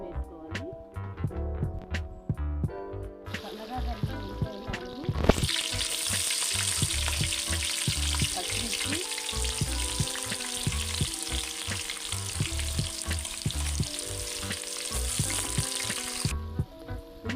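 Cloves and cinnamon frying in hot oil for an Indian dish: a loud, steady sizzle that starts abruptly after a few seconds and runs continuously, with background music playing throughout.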